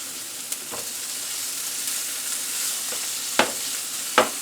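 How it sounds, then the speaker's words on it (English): Cubes of corned beef sizzle steadily with browning onions in a hot pan, a constant close frying hiss broken by a few sharp clicks and scrapes of a utensil. "we have the onions browning nicely, and we're going to start adding the cubes of corned beef."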